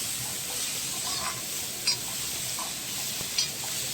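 Peas sautéing slowly in oil for pea cutlets give a steady, soft sizzle and hiss, with a couple of brief clinks from stirring.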